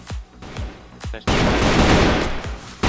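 Gunfire in the Crossfire first-person shooter game: a few sharp, separate shots ring out, then a dense burst of continuous automatic fire fills the second half before one last shot.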